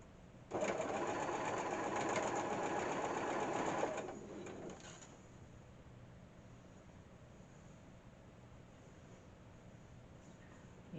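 A sewing machine chain pieces calico fabric, running in one steady, fast, close mechanical whir for several seconds before stopping, leaving low room hum.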